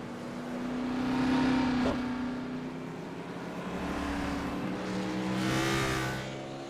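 Race cars roar around the track at Homestead, with engine notes rising and falling as they pass and fade, loud and continuous with no talk.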